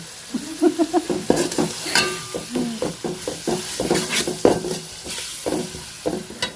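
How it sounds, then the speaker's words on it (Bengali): Beef udder sizzles as it is stirred and fried in a pan with ginger-garlic paste, onion paste, green chilli and turmeric, a close, rhythmic scraping over a constant crackle. "মশলাপাতি দিয়ে ভালো করে কষিয়ে নিয়েছি।"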